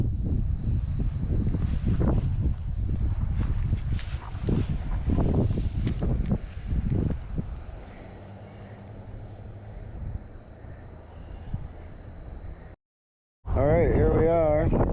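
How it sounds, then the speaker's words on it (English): Gusty wind blows outdoors on a windy day, rumbling and buffeting against the microphone in uneven surges before easing. A voice speaks briefly near the end. "Windy today."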